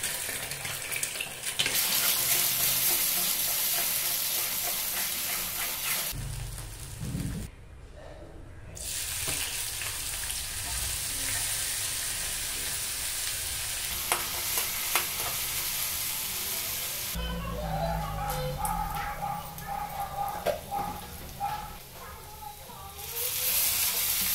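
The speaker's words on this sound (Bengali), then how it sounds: "এই কড়াইটা হলো আমার ভাজার কড়াই" Food fries and is stirred in a blackened kadai used for frying, a steady sizzle broken by scraping strokes, with brief pauses and running water and dish clatter near the end.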